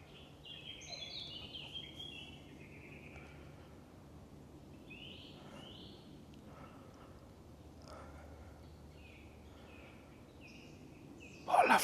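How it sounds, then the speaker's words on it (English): Birds sing and chirp in the woods near Leeds Castle, scattered short warbling phrases at a moderate distance over a quiet outdoor hush, ending in a brief loud rustle close by. "I'll stop a minute and just listen to these birds."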